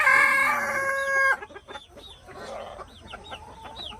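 Roosters crow loudly and close by at a backyard chicken range, a long harmonic call filling the first second, followed by scattered short clucks and chirps from the flock.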